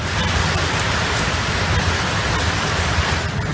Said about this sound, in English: In Nantes, more than 100 millimeters of rain fell in just a few hours.